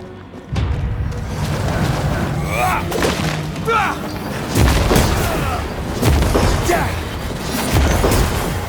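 Cannon fire in the video game Banishers: Ghosts of New Eden, with several heavy booms and thuds spread across the scene amid game noise and speaking voices.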